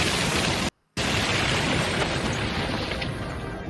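A cartoon pie bomb explodes in SpongeBob SquarePants as one loud, sustained broadband blast, cut by a brief dropout of silence before the roaring rumble carries on and slowly thins.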